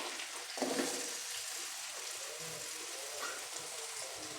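Onion, curry leaves, crushed garlic and green chilli fry in oil for tempering a head mutton fry, a soft, even sizzle with a brief louder crackle near the start, fairly faint and without talk.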